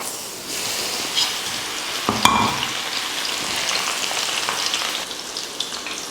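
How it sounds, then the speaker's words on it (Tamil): About ten crushed garlic cloves frying in hot oil for a Diwali bakery-style mixture snack, a steady close sizzle with occasional stirring clatter, no talking. "அடுத்து வந்து ஒரு 10 பல் பூண்டை இந்த மாதிரி தட்டி எடுத்திருக்கேன். அதை பொரிச்சுக்கலாம்."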